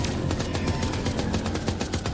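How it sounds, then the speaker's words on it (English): Rapid gunfire rattles in a dense, continuous burst during the From Space video game, sharp overlapping shots at moderate level. "Who's shooting?"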